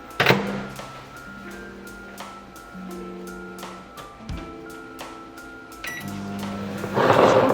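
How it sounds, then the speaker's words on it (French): A microwave oven runs with marble chocolate-vanilla cake batter inside, giving a steady hum with a tonal whine, and small clinks and knocks occur throughout, rising into a louder clatter at the end. "Donc là, j'enfourne au micro-ondes."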